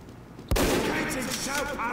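A sniper rifle fired in the video game Team Fortress 2: a single sharp, loud shot with a booming report and a ringing tail that lingers for over a second.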